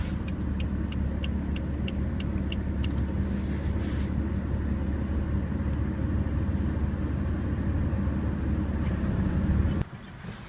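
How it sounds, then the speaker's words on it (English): BMW M4 engine idling, a steady deep low rumble that holds evenly throughout, preceded by a series of faint regular chime tones, ending with an abrupt drop in level near the end. "let's jump into the car, start it up, and see how it sounds"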